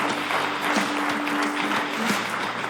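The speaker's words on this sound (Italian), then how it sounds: "facciamo un bel applauso" A studio audience at an Italian sports television show breaks into warm, continuous applause, close and even throughout with no pauses.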